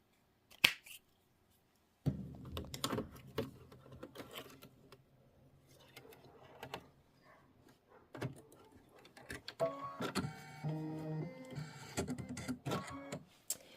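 An embroidery machine stitches the straw fill on a Kimberbell lemonade quilt block. It makes quiet, rapid mechanical tapping with rhythmic clicks and brief pauses. The stitching grows busier and more patterned toward the end, with no talking.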